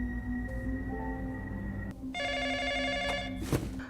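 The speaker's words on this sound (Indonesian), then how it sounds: "Telepon berdering" A telephone rings in bursts with steady electronic tones, close and clear over a low background hum, the pitch of the ring changing partway through.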